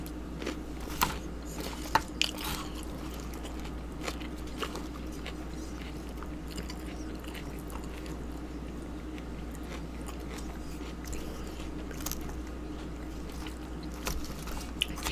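Close crunchy chewing of a McDonald's salad, with irregular bites and soft crackles over a low steady hum.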